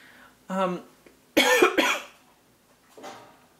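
A person coughs sharply once or twice at close range, with a quieter vocal sound before it and a faint one after, otherwise quiet.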